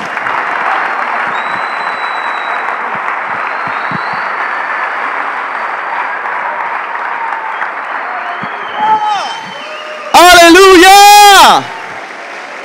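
Audience applause for a pastor at a church conference in Argentina, a steady crowd clapping that fills most of the stretch, then a loud shout from a voice near the end.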